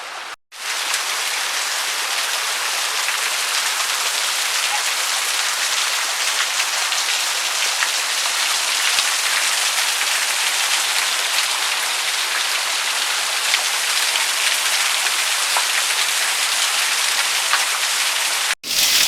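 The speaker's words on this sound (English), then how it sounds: "You can see that waterfall coming down there." A waterfall pours down outside the portal of the abandoned Philo Mine, a constant, loud rushing hiss like heavy rain that holds steady throughout, broken only by brief handling noises at the very start and end.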